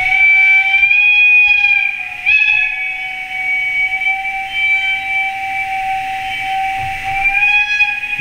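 A sustained, shrill whistle tone sounds continuously, dipping briefly and resuming, with a faint hiss underneath, from a model locomotive sound decoder on a Hobbytrain BR 110/112 electric locomotive model.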